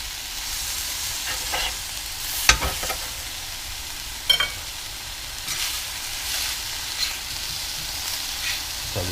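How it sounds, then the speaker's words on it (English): Chicken breasts sauté on a grill with a steady sizzle, broken by a few sharp scrapes and clanks as they are flipped and moved. No one speaks. "we're going to continue to saute them and flip them around here for probably about 2 more minutes"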